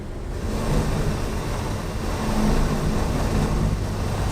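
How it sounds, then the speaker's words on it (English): A Subaru Crosstrek's engine revs steadily off-road under throttle without X mode engaged, a loud, continuous droning roar that holds and swells slightly. "onto the throttle."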